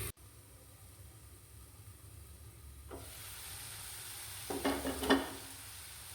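Dried fish with radish cooks in a pot on a stove under a lid: a quiet, steady hiss with a couple of brief bursts of sizzling and stirring near the end.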